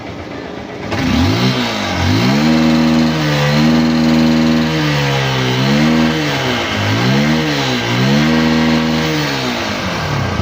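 A Honda XR150 motorcycle engine runs steadily nearby, smoking from a carbon-fouled exhaust, its pitch rising and falling in a few gentle revs over a constant hum.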